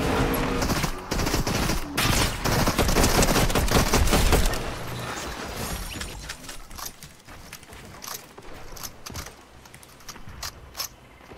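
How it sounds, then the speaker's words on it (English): Rapid bursts of gunfire and explosions, loud and dense for the first few seconds, then thinning into scattered distant blasts and crackles. "Maybe I was just hearing those explosions."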